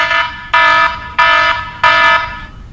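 An anti-theft alarm from an Android phone app blares a loud, piercing electronic tone in three repeated bursts, each about half a second long with short gaps between them.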